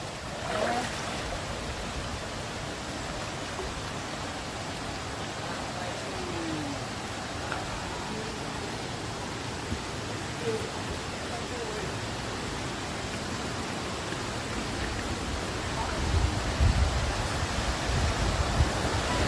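A river flowing near Camp Bravo on a trekking route to Curug Dua Undak, producing a dense, steady rushing wash that stays even and fairly close throughout, with a few faint knocks near the end.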